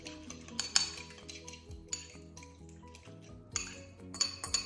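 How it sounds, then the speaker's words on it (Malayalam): Spoon clinking and scraping against a bowl while mixing a dipping sauce with spring onions for a Korean seafood and vegetable pancake, several bursts of close clatter with quiet gaps between. "ഇതൊക്കെ ഇട്ടതിന് ശേഷം ഇത് ജസ്റ്റ് കമ്പൈൻ ബൈ മിക്സിങ്"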